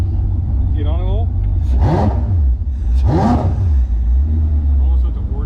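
LS-swapped jet boat engine roaring past, two loud revving swells rising and falling as it passes close by, over a steady rumble with a brief voice early on.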